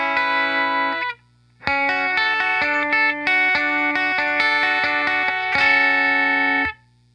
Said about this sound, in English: So here's how my clean sound is without the pedal.